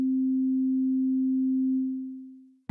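A synthesizer patch playing its default basic waveform, a single pure low sine-like tone held steady for about two seconds before fading out, clean and alone.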